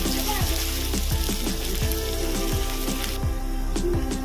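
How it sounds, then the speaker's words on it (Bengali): Chopped onions hit hot oil in a kadai, giving a steady close sizzle throughout, with faint scrapes or stirring taps recurring every half second or so in the background. "পেঁয়াজটা ভেজে নেব"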